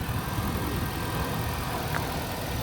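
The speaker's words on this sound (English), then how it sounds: "Engine sounds really good on this one. Nice, quiet engine." A steady, low car engine idles continuously at close range, an even rumble with no revving and no voices.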